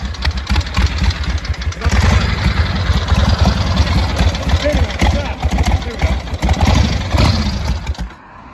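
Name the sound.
1970s Harley chopper motorcycle engine running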